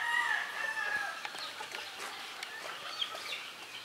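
A chicken sounds close by, a high drawn-out crow-like call at the start followed by scattered clucks and squawks over a busy background of other birds and farm noise.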